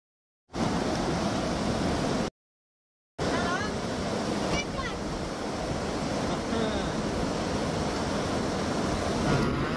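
A fast-flowing Himalayan river rushing loudly and continuously nearby, a dense roar with wind buffeting the microphone and a brief dropout early on.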